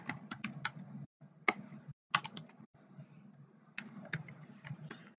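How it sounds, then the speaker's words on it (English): Fingers type on a computer keyboard in short bursts of quick, close key clicks with brief pauses between them. "I'm just typing one directory up each time."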